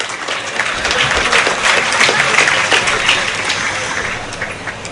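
Sustained audience applause at a public meeting addressed by a minister, a dense steady patter of many hands clapping close up throughout, with no voices on top.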